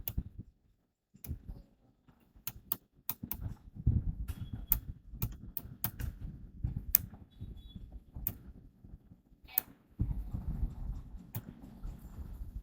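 Sparse, quiet taps on a computer keyboard while entering text for a Canva design, irregular single clicks and short bursts over soft room noise, with no talking.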